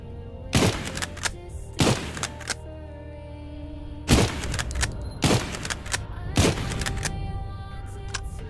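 Sniper rifle fire in The Witch's Forge video game: five loud, sharp shots with ringing tails, spaced unevenly over several seconds, the second pair close together.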